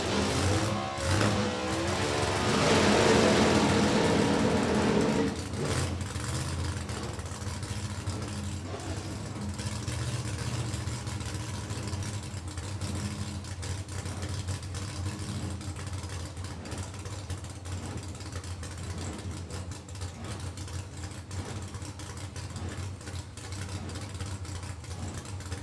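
A blown, supercharged 2009 Pontiac GXP drag car at a drag strip, its engine roaring loudly at first, then settling into a rumbling, lumpy idle that carries on steadily, with no talking.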